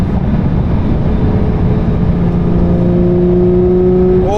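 The six-cylinder engine of a 2022 Porsche 911 992 GT3 drones loudly and steadily from close by, then its pitch climbs as it revs up at the very end.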